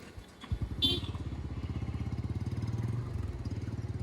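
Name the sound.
100cc Bajaj Platina motorcycle engine revving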